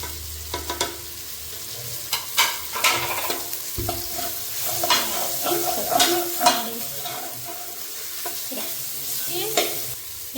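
Garam masala, turmeric, salt and chilli powder sizzle softly in a pan while a spoon stirs and scrapes, making irregular close clinks over a low continuous fry.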